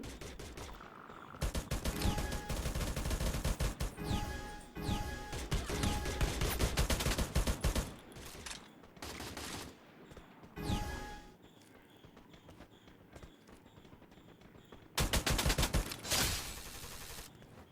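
Bursts of gunfire in a shooter video game, weapons changing with each kill, including a Groza rifle; rapid loud volleys separated by short pauses, no talking.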